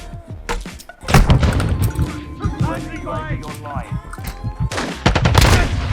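Bursts of gunfire from a shooting video game crack out in quick volleys and single shots, mixed with someone talking over the action.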